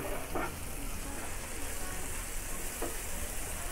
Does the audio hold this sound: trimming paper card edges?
no